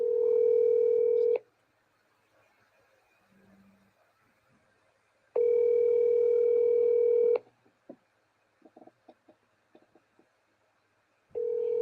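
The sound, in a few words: telephone ringing tone on an outgoing call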